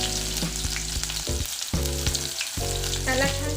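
Onion sautéing in oil with mustard seeds and cumin, a close, loud, steady sizzle with stirring scrapes, under a tonal music track.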